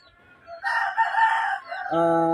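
A Raptor sweater gamecock rooster crows once, loud and close, a harsh drawn-out call that rises and then breaks off into a clipped final note.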